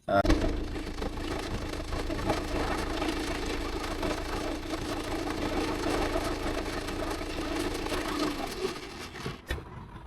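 A car engine idles steadily after a second-hand injector was fitted without coding and swapped from cylinder 3 into cylinder 2, running evenly and close by for about nine seconds before cutting off near the end.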